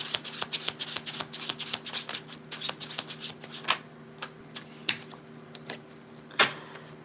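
Tarot cards are shuffled by hand in quick, papery riffles and flutters, a steady run of soft slaps and rustles close by with a few sharper snaps, no voices over them.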